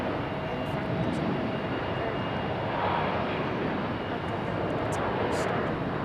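A JetBlue airliner's engines at Raleigh-Durham airport give a steady, loud broadband roar that holds for the whole stretch, with a voice talking over it.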